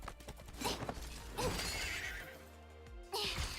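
A horse neighs in a gacha-style video game with dolls, a whinny rising over clip-clop-like thumps and a crashing impact, all at moderate volume with no talk.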